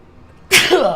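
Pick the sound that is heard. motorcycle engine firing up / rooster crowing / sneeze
sneeze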